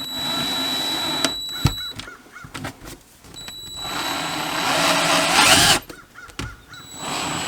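A power drill drives self-drilling screws through a metal bracket while a custom desk is built in a mobile home living room. Two whirring bursts, the second long and rising, sound close and loud with clicks and handling noise between.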